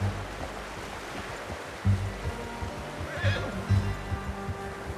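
A horse whinnies in the video game Red Dead Redemption 2 over a soft rushing ambient background, with a few thuds and faint movement sounds.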